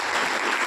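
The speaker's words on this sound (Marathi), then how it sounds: "त्यांच्यासाठी आपण जोरदार टाळ्या देऊया." An audience at a business celebration event applauds, a brief, loud and dense burst of many hands clapping together with no talk over it.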